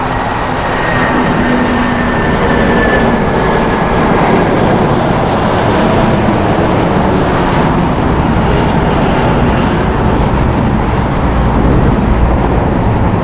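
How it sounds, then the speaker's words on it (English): A United Airlines Boeing 757-300 jet at LAX airport roars loudly and steadily in a broad continuous rumble, filling the whole stretch without pause. "That was United Airlines Flight 1400 going to Chicago, Boeing 757-300."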